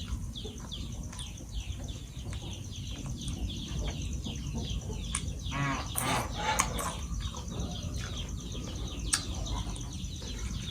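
Ducks quack repeatedly in a rapid, overlapping series, fairly close, over a steady low background rumble.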